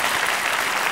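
Audience applause at a comedy stage show, a short, dense burst of many hands clapping together, loud and close.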